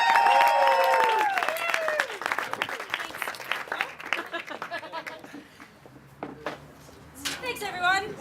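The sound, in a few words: crowd clapping and cheering at family dinner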